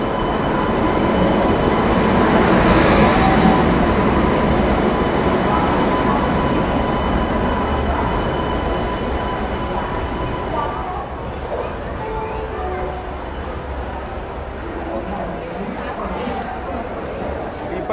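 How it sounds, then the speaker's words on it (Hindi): The Konark Express, hauled by a WAP-7 electric locomotive, arrives at a station with a loud, sustained rumble of wheels and carriages that slowly fades, and people talk over the noise. "ये आई कोणार्क भी और इधर एंट्री हुई एल्को की भी।"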